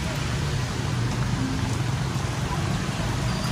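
Steady rain falling over small alleys near a market in Vietnam, a constant dense hiss with a low rumble underneath, with no voices.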